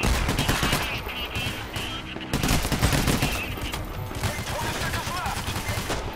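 Sniper and other gunfire crackles continuously in a Payday: The Heist co-op firefight, a dense loud barrage of rapid shots with players' voices mixed in.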